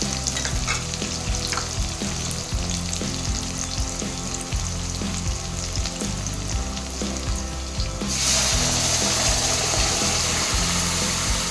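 Loud, continuous sizzling and frying in a hot pan, with a sudden surge of hissing partway through as ground masala paste mixed with water is poured in for tomato kulambu.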